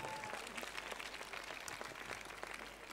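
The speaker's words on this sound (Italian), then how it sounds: "Voglio sentire un applauso" Audience applause at a fashion show, a dense, steady wash of many hands clapping that stays fairly far off and even for the whole stretch, with no voices rising above it.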